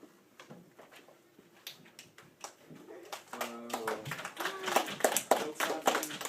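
Scattered hand claps in a courtroom start sparse and quiet, then build into denser, louder clapping from several people.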